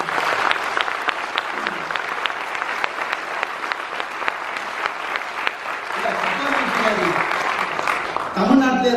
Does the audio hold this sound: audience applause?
yes